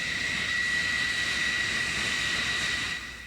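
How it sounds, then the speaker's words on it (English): A Navy jet roars off an aircraft carrier's catapult under leaden skies, a steady loud engine rush with a high whine that holds for about three seconds, then drops away. "Another launch, airplanes leaving the cat again."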